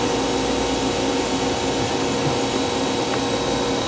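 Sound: grinding the side of a gun drill on a grinder

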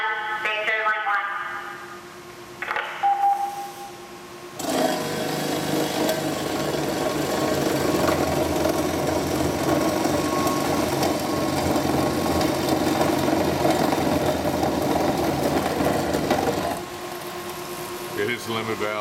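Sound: Doringer D350 SA saw cutting material

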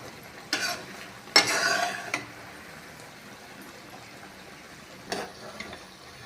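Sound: sugar syrup cooking and being stirred for amla pickle

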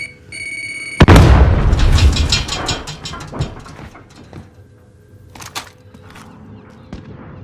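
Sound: frag grenade explosion in Warzone 2 video game

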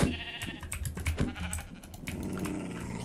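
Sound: sheep bleating in Minecraft video game

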